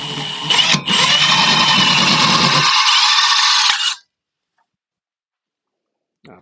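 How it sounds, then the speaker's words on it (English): A 2-inch hole saw, guided by a 1/8-inch pilot hole, bores through material with a loud, steady whine lasting about three seconds after a short start, then cuts off abruptly into silence. "2-inch hole saw. Pre-drilled a 1/8 inch."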